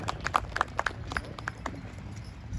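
Hooves of Belgian draft horses in a six-horse hitch pulling a wagon in a heavy horse driving class at Markham Fair clatter in quick, irregular clip-clops, fairly close and with no talking.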